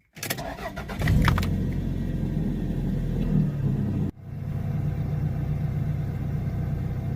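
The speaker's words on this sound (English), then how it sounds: "Idling nicely at 1000 RPM" A 1995 Toyota RAV4 engine, freshly fitted with a new fuel pump, cranks briefly and catches, then settles into a steady idle near 1000 RPM: a close, even, low rumble that continues without any talk.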